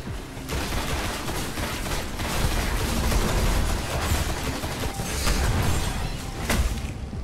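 Gunfire and a grenade blast in the video game Destiny, a dense, loud barrage of shots and bursts running throughout with no pause.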